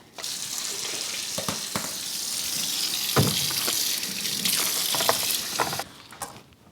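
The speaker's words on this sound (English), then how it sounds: "I will be rinsing these out with hot water and putting the water back in." Hot tap water runs steadily while chicken bones and skin are rinsed for broth, with the flow splashing continuously and punctuated by a few sharp clinks and knocks before it cuts off near the end.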